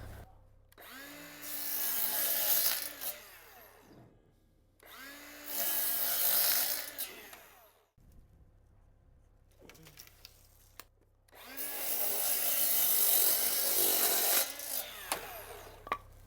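A wooden exterior window trim board for a log cabin is cut to length with a power saw in three loud, close bursts, each a rising whine of blade through wood, with brief pauses between cuts.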